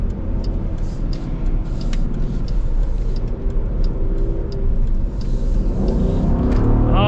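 A Dodge Durango R/T V8 in sport mode: a loud, deep, continuous engine rumble from inside the cabin, with a steady throaty drone that swells slightly near the end.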